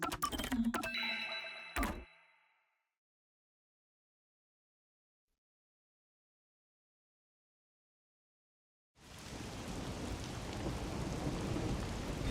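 Steady rain pours with a low rumble of thunder in the Rain Code video game, starting abruptly after a long stretch of silence that follows a brief burst of other game sounds.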